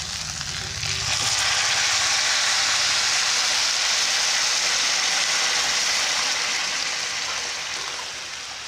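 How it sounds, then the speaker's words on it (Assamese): Hot water goes into a cooking pot with fried kanduli fish for a curry with elephant apple, setting off a loud, steady broadband hiss and sizzle that swells after a second and eases slightly at the end. "এতিয়া গৰম পানী দিওঁ"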